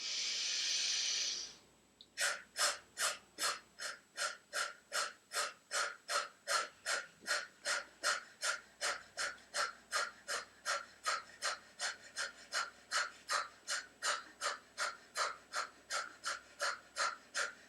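Rapid rhythmic yoga breathing, about thirty quick forceful breaths through the nose in an even, steady pulse after a long initial inhale, close and clear with no talk.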